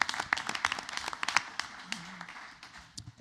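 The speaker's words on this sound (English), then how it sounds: "So please just give another round of applause for our also military queen here, Miss Toya Pryor" Brief, light applause breaks out at a school board of education meeting, scattered hand claps from a modest crowd heard from a distance, fading out within a few seconds amid faint room murmur.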